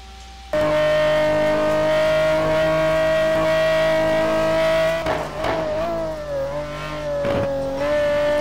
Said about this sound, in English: John Ludden driving the Pagani Zonda R GT1 car.